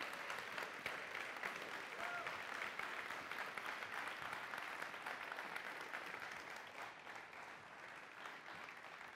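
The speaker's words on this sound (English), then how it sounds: "you can give them a round of applause" Steady applause from a church congregation welcoming new team members, a soft, even wash of many clapping hands heard from a distance that continues for several seconds.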